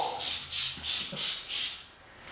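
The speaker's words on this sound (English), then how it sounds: "I'm going to have the screen on right now, and I'm just going to spray down my table" Six quick hissing sprays of disinfectant onto a table from a pump spray bottle in an even rhythm, close and fairly loud, then quiet.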